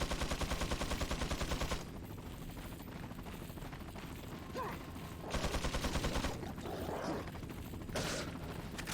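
Bursts of rapid gunfire in a video game speedrun, rattling machine-gun-like volleys at the start and again midway, with quieter stretches between.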